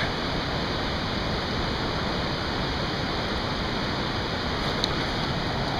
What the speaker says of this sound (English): Might be the best view of the waterfall.